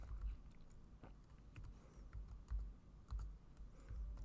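Soft, close keystrokes on a computer keyboard come in short irregular bursts with pauses between, faint against a quiet room and with no talking.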